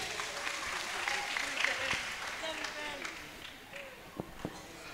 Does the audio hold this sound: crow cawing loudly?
no